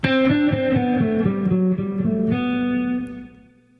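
A fast descending run of evenly picked 16th notes on a distorted electric guitar, ending on a held note that decays away, loud, close and without speech.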